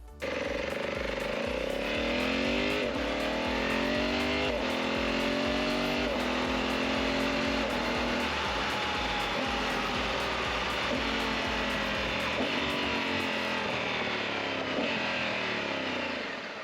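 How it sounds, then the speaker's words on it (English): A Honda Africa Twin 1100 motorcycle accelerates hard through the gears with a quick shifter, its engine note climbing repeatedly and cutting sharply at each rapid upshift, loud and close for the whole run. "it's also very exhilarating when you're opening up and banging through the gears"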